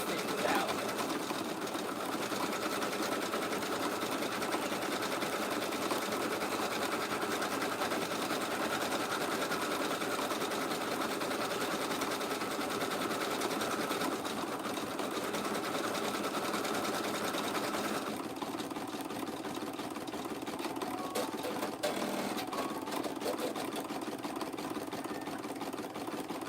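A sewing machine stitches out an embroidery design, a steady, even mechanical whir that runs close and loud throughout with no pauses and no talking.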